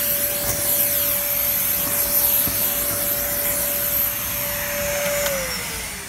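A Dyson vacuum cleaner, one of a DC33, DC39 or DC50, runs steadily and loudly close by with a constant motor whine and broad airy roar, its pitch dipping slightly near the end.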